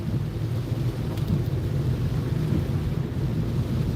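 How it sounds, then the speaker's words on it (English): Steady heavy rain noise with a dense low rumble, like rain drumming on a car on the road to Kampala, constant and loud with no voices. "The rain is reducing as we head to Kampala."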